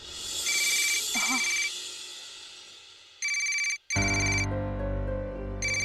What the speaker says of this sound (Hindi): तुम्हारा फोन बज रहा है, उठा लो उसे